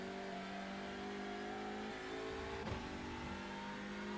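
Engine of a TCR race car in iRacing pulling out of a corner at Suzuka under gentle throttle, a steady mid-pitched drone that rises gradually, with a brief gear-change blip partway before climbing again.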